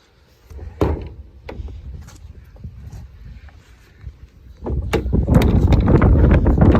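Water from a hose rinses a scrubbed plastic trash bin, starting with scattered thumps and knocks before a loud, broad, rushing spray builds and holds close to the microphone.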